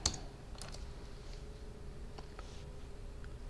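Typing on a computer keyboard while entering text, heard as a few scattered, faint key clicks over a steady low background hum, with no talking.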